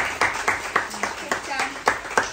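A class claps for a student at a results announcement: a handful of uneven, separate clap bursts roughly every third of a second, close and fairly loud, with a voice talking over them.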